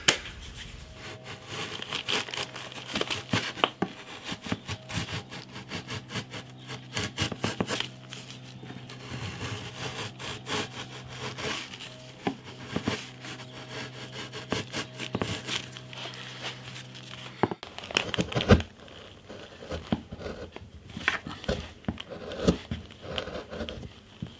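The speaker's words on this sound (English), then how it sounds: "there's something very satisfying about shaping the end of the braces, especially if you chisel sharp" A sharp chisel pares the ends of wooden braces on a classical-style guitar, giving a steady run of close, crisp scraping and cutting strokes with light knocks, and no talking.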